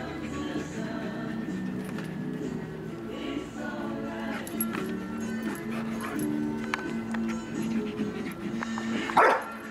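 A dog whines and yips on and off over a low hum, with a sharper bark near the end.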